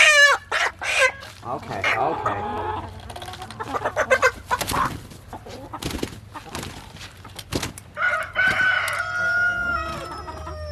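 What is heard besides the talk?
meat chickens loudly squawking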